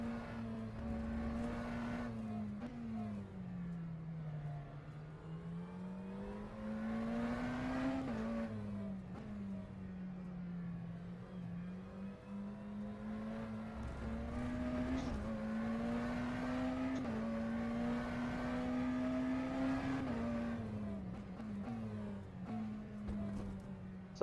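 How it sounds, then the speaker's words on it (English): McLaren Senna GTR race car with a naturally aspirated engine in the rFactor 2 sim at Zandvoort, droning loudly and steadily throughout as the revs climb and fall through gear changes, with no talk. "naturally aspirated engine, more RPM means more power."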